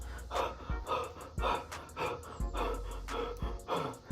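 Heavy, rhythmic panting while running, quick breaths in and out about once per second, close and loud, with no talking.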